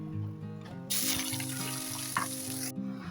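Ginger, garlic and onion paste drops into hot oil and sizzles loudly, a bright steady frying hiss for about two seconds, with a faint clink partway through.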